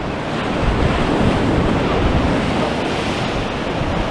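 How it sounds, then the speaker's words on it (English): Strong wind gusting over Blackpool promenade at high tide, with surf and waves washing steadily below, a loud, continuous broadband roar with wind buffeting the microphone throughout. "It really is a windy day."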